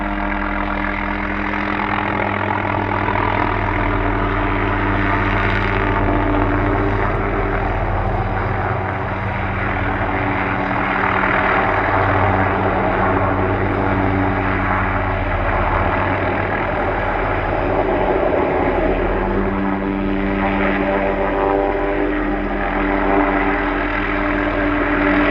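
A helicopter hovers low and close over open Nevada winter ground near horses, its loud, continuous rotor and engine drone holding steady throughout.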